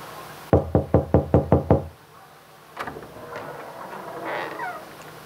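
Seven quick, evenly spaced knocks on a door during a stage skit at a college cultural fest, loud and close, followed by quieter shuffling and faint background sounds.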